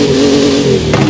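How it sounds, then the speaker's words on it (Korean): A large six-wheel-drive truck's engine revs up close, a loud, steady low growl that swells briefly toward the end of the short burst. "엔진 소리 들어봅시다."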